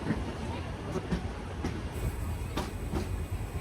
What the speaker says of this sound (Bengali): ছেড়ে যাচ্ছে আন্তনগর বিজয় এক্সপ্রেস কিশোরগঞ্জ থেকে